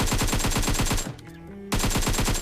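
Rapid automatic gunfire in the video game PUBG on the Erangel map rattles in an even, fast rhythm, stops for about half a second, then resumes at the same rate.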